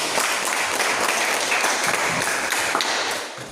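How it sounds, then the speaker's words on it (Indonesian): A classroom gives applause for a presenting student group: brisk, dense clapping from many hands, loud and steady for a few seconds before tapering off. "Tepuk tangan untuk kelompok 2"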